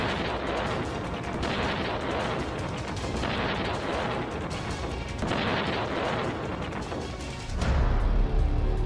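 Gunfire and heavy booms from a Taliban–Iran border clash, dense continuous shots and blasts throughout, with a louder low rumble near the end.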